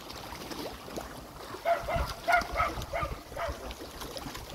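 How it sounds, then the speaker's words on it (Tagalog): An angry dog barks in a quick cluster of harsh barks beside a pond where catfish are fed whole chickens, half-buried in a constant rushing, watery background noise. "Galit siya aso."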